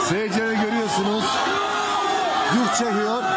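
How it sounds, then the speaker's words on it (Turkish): An angry concert crowd booing the singer: a mass of voices in sustained jeers and shouts. Louder individual voices rise and fall over the crowd throughout. "Öfkeli dinleyiciler şarkıcıyı yuhaladı."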